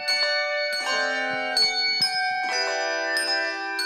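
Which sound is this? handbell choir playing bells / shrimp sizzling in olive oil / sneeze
handbell choir playing bells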